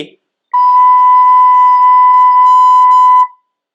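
One sustained recorder note, Ti, bright and steady, holding for nearly three seconds with no other sound around it.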